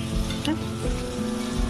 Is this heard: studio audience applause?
no